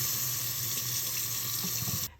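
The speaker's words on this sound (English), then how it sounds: "I'm going to refill my sink again with tepid water" Tap running steadily into a sink, filling it with tepid water in a constant close rushing hiss that cuts off sharply at the end.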